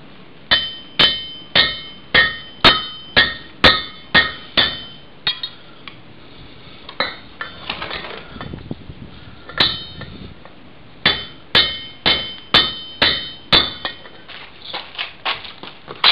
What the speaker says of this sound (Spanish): Luego entonces hay que darle el doble con el martillo y demás.